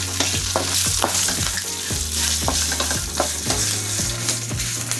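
Poppy seeds, curry leaves and peppercorns fry in hot oil with a steady loud sizzle, broken by repeated scraping stirs of a spoon for mango sambar masala, with no voices.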